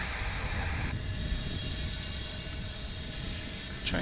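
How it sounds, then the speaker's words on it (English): A steady roar of UPS aircraft engines at Dallas/Fort Worth airport fills the whole stretch, broad and constant, with a high whine that drops off early on. "I'm hearing engine noise over there from our"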